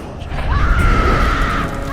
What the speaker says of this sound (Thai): กรีดร้องออกมาอย่างสุดเสียง